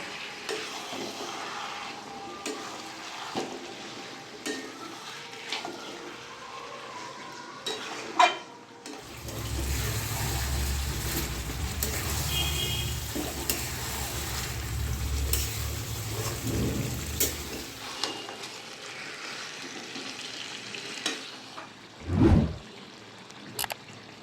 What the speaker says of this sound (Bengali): মটনটা আমি 15 মিনিট মশলার সঙ্গে ভালো করে কষিয়ে নেব।